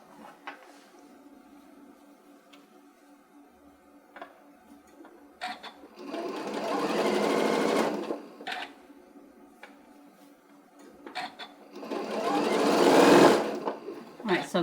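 Sewing machine stitching across thick fabric seams while making a stuffed pumpkin from a template set, two long loud bursts of running separated by quieter pauses with small clicks and handling noises.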